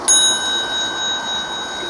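A loud lion bell on a titanium gravel bike rings once with a bright, sustained metallic tone that slowly decays.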